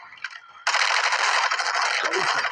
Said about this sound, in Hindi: अब देखते हैं कहाँ से फायर हो रहा है।